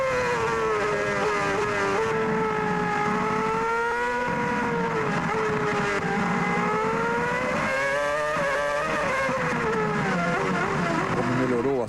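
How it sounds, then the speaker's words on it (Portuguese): Kimi Räikkönen's Formula 1 car is heard onboard at the 2007 Monaco Grand Prix, its loud high-revving engine whine rising and falling continuously through gear changes and corners. "E você vai de carona no carro de Raikkonen."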